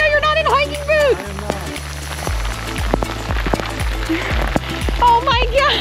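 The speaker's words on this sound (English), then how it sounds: "It's so much rain. Oh my God. This is a downpour." Heavy rain pours down in a downpour on a hike to Pulpit Rock near Stavanger, Norway, a steady loud wash of drops with footsteps splashing through it while people talk and exclaim over it.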